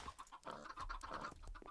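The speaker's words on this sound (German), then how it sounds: "also gackert das jetzt hier die ganze Zeit oder was?" Chickens clucking in the video game Minecraft, a quick run of short, scratchy bird clucks repeating in an uneven rhythm, close and moderately loud, with no talk over them.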